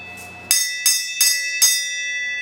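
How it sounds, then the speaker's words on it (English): A bell rings four times in quick succession, each strike bright and ringing, leaving a sustained metallic tone that decays between hits. "would you mind ringing the bell, sir?"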